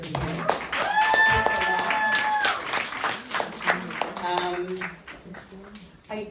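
Festival audience at a Toronto film screening Q&A claps for a filmmaker, brisk applause that builds quickly, then thins into scattered claps, with talking over it.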